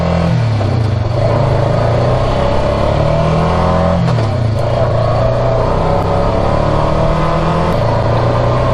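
A Honda Pioneer 500 side-by-side climbs a forest trail, its engine droning loud and steady throughout with rising and falling revs and constant rattle from the vehicle.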